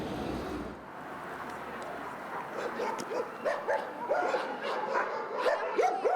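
Several dogs bark, yip and whimper at moderate distance in a crowded shelter enclosure in Kharkiv, the barking building up in irregular bursts over a steady background hum.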